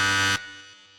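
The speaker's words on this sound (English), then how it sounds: "you will get buzzed, and this is what it sounds like" A loud, harsh electronic time buzzer blares for about a third of a second, then cuts off into a fading tail, heard alone with no talk.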